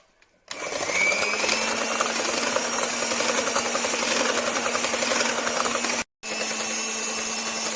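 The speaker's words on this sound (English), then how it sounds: "We have to start beating the cream from a slow speed. Gradually increases the speed to high." Electric beater whirring steadily while whipping cream for a rasmalai cake, a loud continuous motor hum that cuts out briefly before restarting, close by.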